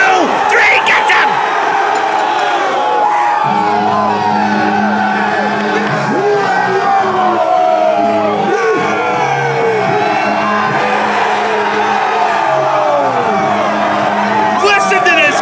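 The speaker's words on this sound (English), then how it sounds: "Listen to this crowd." Wrestling fans in a packed, growing crowd roar, whoop and yell continuously after a pinfall, with loud sustained cheering and chanting-like swells throughout.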